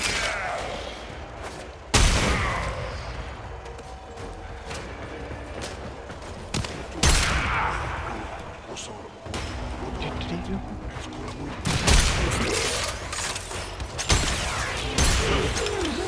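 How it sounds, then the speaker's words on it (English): A video game shotgun fires several heavy, booming blasts spaced a few seconds apart, each followed by mechanical reload clatter, while someone talks through much of it. "It's just a good shotgun."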